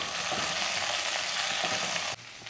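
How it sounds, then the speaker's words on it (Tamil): Green beans, carrot and potato sautéing in a pan, a steady close sizzle with light stirring scrapes throughout that cuts off abruptly near the end, with no talk. "இப்போ இதை அப்படியே வதக்கி விடலாம்."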